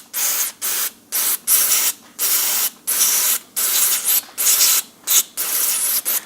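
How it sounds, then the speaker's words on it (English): Isopropyl alcohol sprayed from a spray can on a high-pressure nozzle setting onto the controls of a NuTone Model 2411 stereo remote intercom station, about a dozen loud close hissing bursts in quick succession. "what you clean it off with is your isopropyl alcohol in the spray can"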